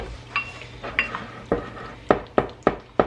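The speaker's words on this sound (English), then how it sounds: "This time I'm gonna mix it in with some ketchup, some mustard." A spoon scraping and clinking in a bowl while tomato jam is mixed with ketchup and mustard, a few soft scrapes giving way to sharper, regular metallic taps close up.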